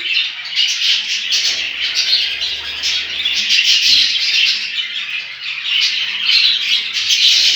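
Harsh, repeated squawks from cage birds, budgerigars and canaries, fill the space almost continuously, loud and close, with bright chirpy calls overlapping one another.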